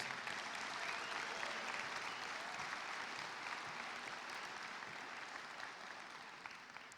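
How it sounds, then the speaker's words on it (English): Sustained applause from a large audience at a high school graduation ceremony, a steady dense wash of clapping that holds evenly throughout before easing slightly at the end. "let's give that classmate a big round of applause"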